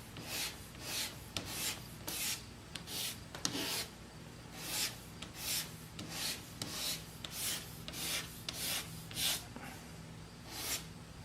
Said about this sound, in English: I'm going to take a razor blade and I'm going to use it as a card scraper and just scrape it a little smoother